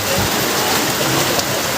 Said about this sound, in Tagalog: kasi sobrang lakas yung ulan mga idol